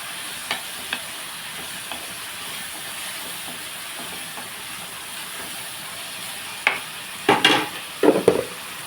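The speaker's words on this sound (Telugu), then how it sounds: "ఉల్లిపాయ చూడండి బాగా వేగుతుంది" Onions frying in a covered pan with a little turmeric, a steady soft sizzle and hiss underneath, broken by a few faint clicks and then several louder scraping stirs near the end, close with no talking.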